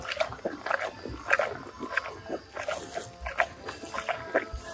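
Squirrel monkeys chewing crunchy autumn food up close, with irregular crisp bites and crunches repeating throughout over a low background.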